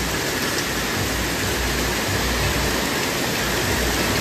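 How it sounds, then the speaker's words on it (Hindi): Very heavy rain pouring down, a dense, loud, constant hiss that fills the whole stretch without letup and with no one speaking. "बहुत तेज बारिश आ रही है।"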